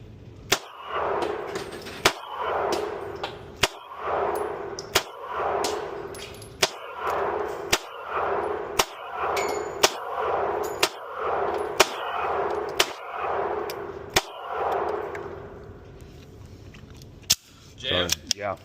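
Springfield Armory 2011 Prodigy 9mm pistol fired at a range, a long run of about fifteen sharp, loud shots spaced roughly a second apart, each ringing briefly, with faint chatter beneath.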